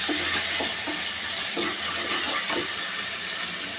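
Onions, tomatoes and green chilies frying in a pan for egg fried rice, a steady loud sizzle with faint periodic stirring scrapes throughout.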